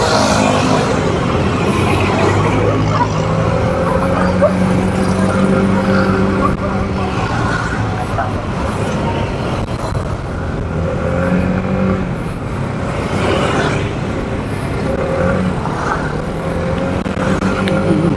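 Continuous engine drone and road noise from a moving Kymco Skytown 150 scooter, steady and close, with rushing air throughout and no speech.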